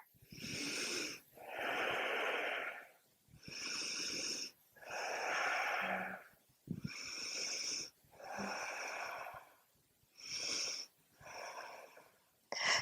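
Deep, slow breathing during an Ashtanga yoga practice: about eight long audible breaths alternate between inhales and exhales, each a few seconds long, close and fairly loud, with a raspy, throaty texture, heard alone without talk.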